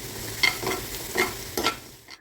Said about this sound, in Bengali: রসুনটাকে খুব ভালো করে ভেজে নিতে হবে